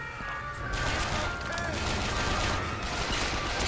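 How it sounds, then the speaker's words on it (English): Dense gunfire rattles in BioShock Infinite, rapid overlapping shots that pour on continuously and loudly after a brief quieter opening, with a voice briefly audible. "I hear someone shooting."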